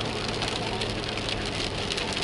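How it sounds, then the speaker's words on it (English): Heavy rain falls in a steady, dense hiss, loud and unbroken throughout, with no voices. "There's nothing drizzly about this. This is rain."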